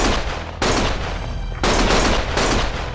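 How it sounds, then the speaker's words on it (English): Automatic gunfire in the action game Lost Judgment: dense, loud bursts of rapid shots close by, broken by brief pauses, with no voices over it. "Stop shooting!"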